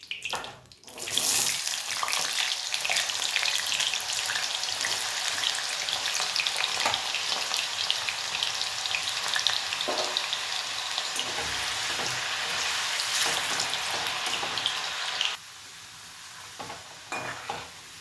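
Potatoes fry in a pan of oil with a loud, steady sizzle that fills the scene, with occasional stirring clatter, then drop to a quieter level near the end.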